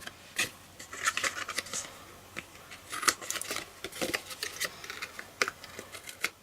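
Scissors trimming the ends off paper in a craft project, a series of close, crisp snipping cuts in irregular bursts, fairly faint.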